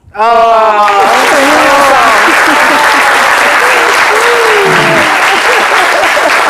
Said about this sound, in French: Non mais, vous faites bien d'applaudir.